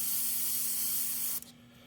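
An airbrush sprays paint onto Bristol board with a steady, close hiss and a faint low hum, then stops abruptly, leaving a quieter background.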